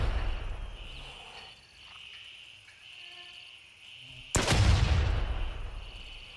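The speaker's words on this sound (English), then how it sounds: "This guy's popping off with some nades." A single heavy grenade explosion in the video game Gray Zone Warfare bursts in sharply and rumbles away over a few seconds, following a stretch of quiet insect-like ambience and faint distant thuds.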